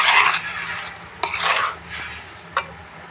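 Lentil kofta mixture being mixed with breadcrumbs in a bowl, giving soft squelching, rubbing sounds in uneven bursts, with a couple of sharp clinks against the bowl.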